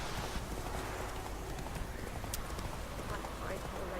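Horse hooves galloping in the open-world game The Witcher 3, a steady run of clip-clop beats close and loud, with a voice talking over it throughout.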